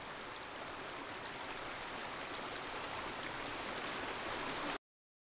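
Huangguoshu Waterfall in Guizhou province, a continuous dense rushing roar of falling water that holds steady before cutting off abruptly near the end, no voices.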